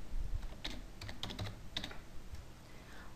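Short burst of typing on a computer keyboard while entering a list name, a handful of crisp key clicks in quick irregular clusters, close and fairly quiet.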